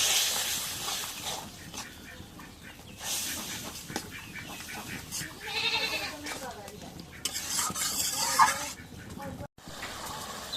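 Potatoes go into a pan with garlic and cumin paste for a home-cooked potato and dried fish curry, with irregular scraping stirs over a soft, steady sizzle.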